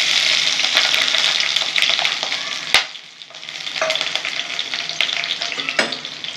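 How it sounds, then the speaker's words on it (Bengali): Two dried red chillies frying in hot oil for pat saag bhaja, a steady close sizzle and crackle with occasional sharp pops and stirring sounds. "দুটো শুকনো লঙ্কা ফাটিয়ে দিয়ে দেবো"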